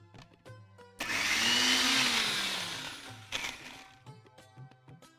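A kitchen blender grinds pesto with olive oil in one loud whirring burst of about two and a half seconds that rises and fades. Quiet clinks and knocks come before it, and a second short burst follows.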